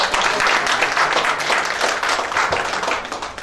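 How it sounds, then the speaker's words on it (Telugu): An audience at a stage event claps loudly, a dense, steady burst of applause from many hands lasting a few seconds. "గట్టిగా క్లాప్స్."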